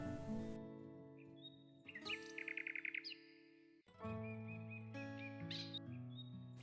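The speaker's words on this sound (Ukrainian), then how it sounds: "як радісно співають пташки" Birds chirp and sing clearly nearby, with bright whistled notes and quick trilled phrases in bursts, over a soft background.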